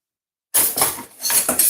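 A metal fork mashing plantain in a bowl: after a short silence, repeated clinking scrapes against the bowl in an uneven rhythm, close and fairly loud.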